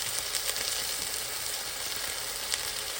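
A beef roast sears in two tablespoons of vegetable oil in a pan, giving off a steady, quiet sizzle and fine crackle with no voices.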